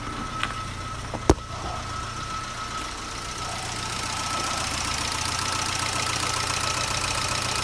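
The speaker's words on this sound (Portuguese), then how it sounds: "Ele ainda tá falhando um pouco. Acredito que seja por conta de um dos cabos de vela" Peugeot engine idling with a slight misfire from a faulty spark plug wire, a steady mid-pitched running hum that grows a bit louder, with a sharp click near the start and no talk.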